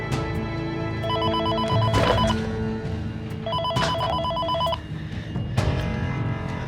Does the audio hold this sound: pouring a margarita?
no